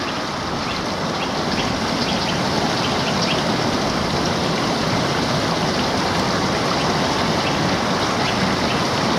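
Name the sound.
flowing water of a stream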